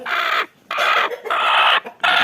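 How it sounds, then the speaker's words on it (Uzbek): Roosters and black hens on a small backyard farm in Margilan, kept alongside muscovy ducks, give loud, close, harsh calls in four drawn-out bursts separated by short gaps. "Mana xo'rozlar achchig'i kelib kelishyapti."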